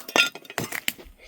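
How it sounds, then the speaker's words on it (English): Footsteps crunching over broken glass at a run-down ranch, a few sharp clinking crunches spaced irregularly, close and crisp, with faint talk around them. "walking across glass"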